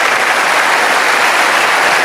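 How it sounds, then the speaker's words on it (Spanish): A church audience applauds, a brief, loud and even burst of clapping heard alone. "tienen que aplaudir más fuerte que eso, que se escuche en el mundo"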